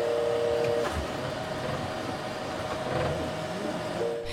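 A 3D printer running in a shop, a steady mechanical whir and hum with brief tonal motor whines at the start and end, close and continuous.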